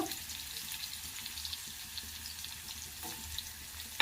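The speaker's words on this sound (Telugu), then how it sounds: "కొద్దిసేపు ఇలా ఫ్రై చేసుకోవాలి ఆనియన్స్ అంతా" Chopped onions sizzle steadily in hot oil for a brinjal bajji, a dense, continuous crackling hiss with small pops, close and unbroken throughout.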